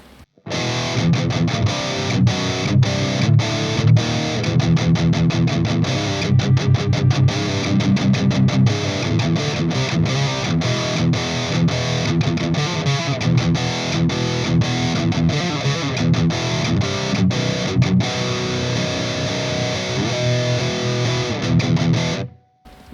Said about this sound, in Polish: zobaczmy jak będzie na kanale przesterowanym ten tryb bright się sprawował